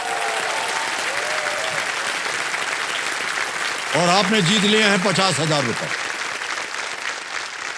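A studio audience on a TV quiz show applauds, a dense wash of clapping that runs throughout and swells near the middle while a voice speaks over it.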